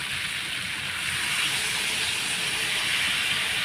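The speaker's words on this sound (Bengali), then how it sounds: "এখন আমি জল দিয়ে দেবো তো জল দিয়ে দিলাম" Water poured into a hot pan of fried eggs and potatoes sends up a loud, continuous steam hiss that holds steady for several seconds without speech.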